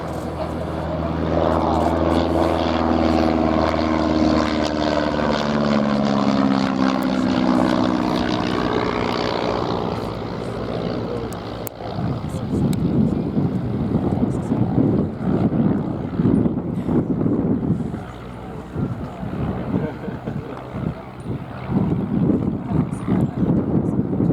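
A vintage propeller aircraft at an airshow, likely a de Havilland type with a 150 horsepower Monasco Pirate engine, drones loudly and steadily overhead, its engine tone rising and shifting as it passes, then settling into a rougher, broadband rumble.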